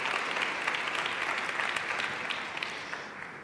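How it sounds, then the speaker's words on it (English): Audience clapping at a women's conference, a soft, fairly distant patter of applause that holds steady and then fades toward the end. "Round of applause."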